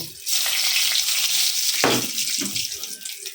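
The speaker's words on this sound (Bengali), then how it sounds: "ফোড়নে একটু কালো জিরে দিয়ে দেব" Black cumin seeds hitting hot oil for tempering, a loud, close, hissing sizzle that bursts in and holds steady, with a brief flare near the middle before easing slightly at the end; no voices.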